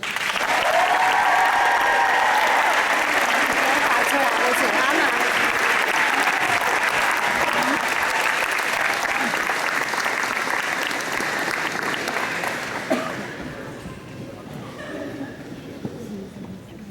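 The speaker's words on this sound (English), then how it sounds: "Give it up for Harsh Patel." An audience at a high school graduation ceremony applauds and cheers loudly and steadily for the valedictorian, a dense roar of clapping with voices mixed in that fades toward the end.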